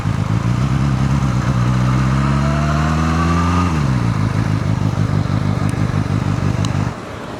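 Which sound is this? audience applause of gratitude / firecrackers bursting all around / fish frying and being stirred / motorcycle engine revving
motorcycle engine revving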